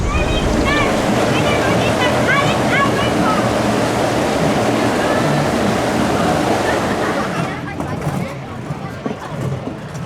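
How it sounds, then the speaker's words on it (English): Loud rushing, churning water surrounds riders on Intamin's Thunder River rapids ride, a steady roar that eases slightly near the end, with voices and faint shouts mixed in. "Enjoyed that ride on the rapids there."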